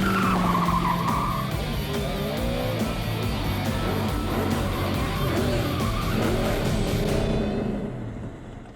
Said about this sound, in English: That's a little taste of a drift car.